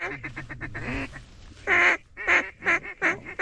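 Mallard ducks calling during a rainy duck hunt, a loose run of raspy quacks that grows louder toward the end into about five strong, rhythmic calls, close and clear with no talking.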